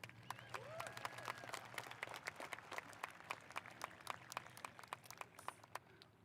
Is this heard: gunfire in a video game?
no